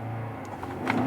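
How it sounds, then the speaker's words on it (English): The engine of a 2013 Infiniti QX56 hums at a steady idle and then climbs slightly in pitch as it revs, with a faint whir on top. It is heard from nearby, with no talk over it. "The engine revs nice."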